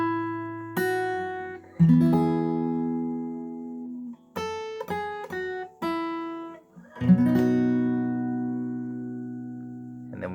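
A guitar picks out a melody mixed with chords: clear plucked single notes and ringing chord strums at moderate volume, with a quick run of short notes partway through and no voice.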